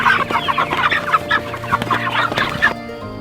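Several chickens on a farm cluck busily and close by, overlapping in a rapid, chattering stream before it cuts off abruptly.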